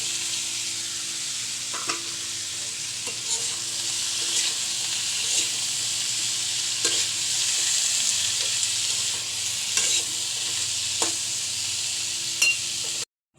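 Bitter green bananas frying in hot oil with turmeric powder, a steady loud sizzle running throughout with occasional clinks and scrapes of stirring, close to the pan and without talk.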